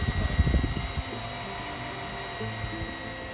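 A Sanyo PH137AC water pump running under negative suction, with a loud mechanical thump at first, then a steady whine and hum with high tonal lines and irregular low knocks.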